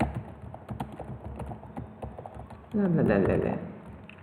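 Rapid, close keystrokes tap on a computer keyboard in a quick irregular run, ending in a louder burst as a voice speaks over the final moments.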